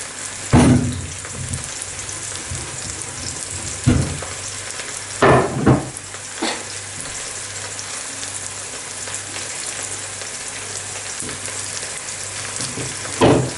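Shaggy parasol mushrooms and bacon fry in a pan with a steady sizzle and crackle, broken by several louder bursts of spitting and stirring, close and alone with no talk.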